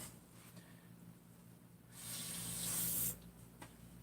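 A can of brake cleaner releases a single hissing spray burst lasting about a second, close and fairly loud against a quiet background with no voices.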